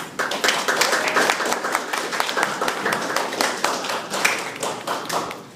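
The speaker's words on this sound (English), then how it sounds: "I want to give you all applause" Audience applause for guests at a Project MALE breakfast gathering, individual hand claps clearly separated in a steady, lively rhythm that swells and eases over several seconds.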